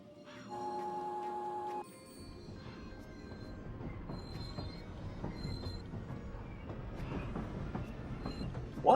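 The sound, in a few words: train running in Paper Mario: The Thousand-Year Door video game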